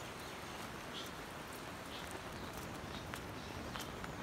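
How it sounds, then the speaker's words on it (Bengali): Light drizzle falls over a flooded wetland field, a soft, faint, continuous patter of small drops with scattered brighter ticks, steady throughout and without speech. "এখনও গুড়ি গুড়ি বৃষ্টি পড়তেছে"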